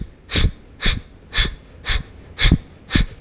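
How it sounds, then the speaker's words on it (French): Rapid, forceful breath-of-fire exhalations during a core breathing workout, six sharp puffs in an even rhythm about half a second apart, close and clear with no talking. "On va rajouter la respiration de feu."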